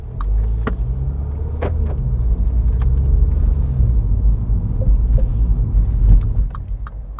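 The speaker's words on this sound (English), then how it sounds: "we're away very easily with that 300 horsepower" An automatic 300 bhp Mini John Cooper Works pulls away on a UK road with a steady low engine rumble and road noise from inside the cabin, plus a few faint clicks and knocks. No one speaks.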